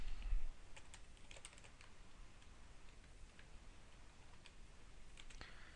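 Fingers typing on a computer keyboard, quiet irregular clicks and taps scattered over a faint steady background, with no one speaking.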